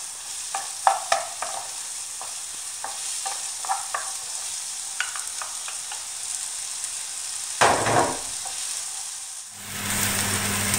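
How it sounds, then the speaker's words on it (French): Onions soften in a non-stick pan for a kefta tajine with eggs, a constant close sizzle broken by repeated scraping stirs, then a louder shuffle and a shift in the hiss near the end. "on va faire revenir les oignons"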